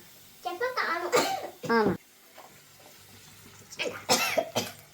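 A few sharp coughs, close and fairly loud, in two clusters separated by a quieter stretch.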